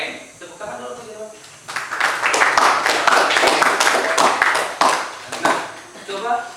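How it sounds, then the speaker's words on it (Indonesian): Secondary-school students clap together in a classroom, a burst of dense applause lasting a few seconds before fading into a couple of stray claps, with voices around it. "Tepuk tangan dulu teman-teman"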